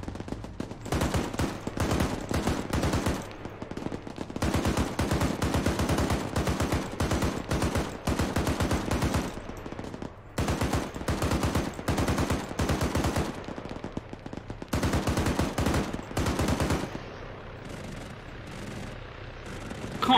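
Gunfire in Arma 3 with rapid, sustained automatic bursts, loud and close, broken by short pauses and dropping to quieter, sparser shots near the end.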